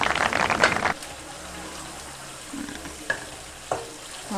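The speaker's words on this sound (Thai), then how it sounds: "คอยคนคอยกลับไปเรื่อยๆนะคะ จนกว่าน้ำจะแห้ง" Chinese sausage frying in a pan, a loud burst of sizzling and stirring at the start that drops to a quieter steady sizzle, with a few sharp spatula clinks and scrapes near the pan.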